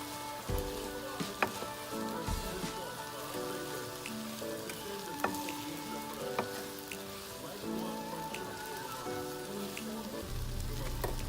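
Butter melts and sizzles in a pan for shrimp scampi from a meal kit, a steady close crackling hiss with small pops running throughout, quiet and unaccompanied by talk.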